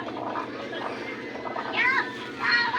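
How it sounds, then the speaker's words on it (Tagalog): Children bathe and play in the sea, their distant shouts and chatter blending with a steady wash of surf and wind, with brief higher squeals rising near the end. "Ayan, may naliligo doon ng mga bata."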